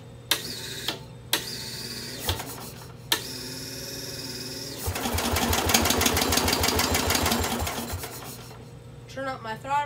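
A Bolens garden tractor engine sputters through a few short bursts, then settles into a rougher, louder running rattle for several seconds as the throttle is raised before it fades again.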